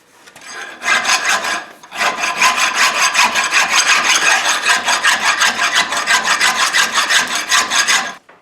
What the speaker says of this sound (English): got done filing a little bit